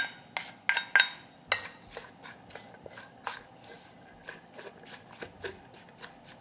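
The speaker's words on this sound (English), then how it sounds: "grind this sesame seeds. This is toasted sesame seeds." Toasted sesame seeds being ground by hand in a Korean home kitchen, giving a run of quiet, irregular gritty scrapes and rubs with sharper clicks near the start, close and fairly faint.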